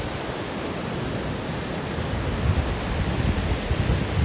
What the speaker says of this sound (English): Enjoy the sound of waves.